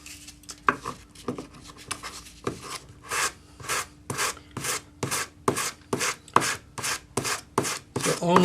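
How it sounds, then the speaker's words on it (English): Hand sanding back a small amount of solder on the curved top of a metal anticlastic bangle, a steady rhythm of about a dozen short, close rasping strokes that quicken and grow louder, with no talking. "This is just so that we can sand this back, just sanding the smallest amount possible"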